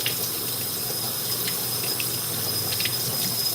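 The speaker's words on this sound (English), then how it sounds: "I take my time to wash my hands properly." Sink tap running steadily while hands are washed beneath the stream, a constant close hiss of water with small splashes and shifts in flow throughout.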